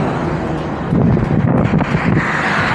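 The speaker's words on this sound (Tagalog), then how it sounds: "Grabing hangin." Strong headwind roars steadily across the microphone of a solo road cyclist riding in Abu Dhabi, a loud continuous buffeting rush with no talk.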